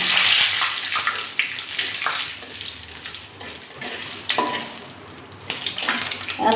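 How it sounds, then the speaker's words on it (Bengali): Cinnamon and bay leaf sizzle in hot oil in a pan for pointed gourd curry, a steady crackling hiss with a few louder spits, close and fairly loud with no talking. "তেল এখন পটলটা রান্না করব দারচিনি আর তেজপাতা ফোড়ন দিয়ে দিলাম"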